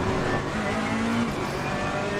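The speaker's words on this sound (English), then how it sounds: "Faster car is approaching. Another fast car." GT3 race car in a racing simulator at Imola, its engine a loud steady drone with a tonal whine that holds and then shifts as a faster car closes in, continuous for about two seconds with no talk.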